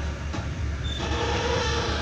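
A passenger train with railway carriages rolls past at a station in Java, Indonesia, a steady loud rumble of wheels on rail with a faint high squeal rising midway, no voices.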